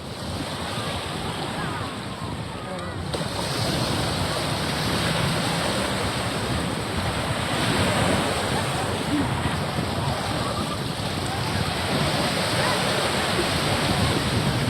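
Loud, continuous crashing surf rolls onto a beach shore, a steady roar of big breaking waves with wind rushing over the microphone throughout.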